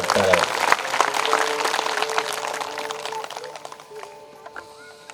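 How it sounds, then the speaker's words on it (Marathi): Audience applause fills a devotional musical Navnath katha gathering, a dense loud clatter of many hands that slowly thins and fades over about five seconds, with voices mixed in. "जोरात टाळ्या वाजा ना"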